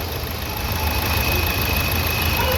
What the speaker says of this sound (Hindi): इंजन कितना स्टेड है, देख सकते हो।